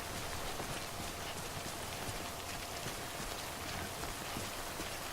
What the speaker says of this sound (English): I feel like that would help with the rain. Timefall.